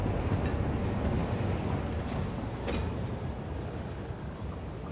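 A freight train in the factory-building game Satisfactory rolls past carrying rubber, a steady loud rumble with rail clatter and a few brief squealing bursts, gradually easing off.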